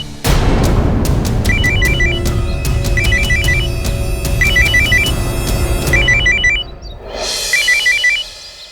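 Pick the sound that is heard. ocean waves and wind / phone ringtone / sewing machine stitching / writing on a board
phone ringtone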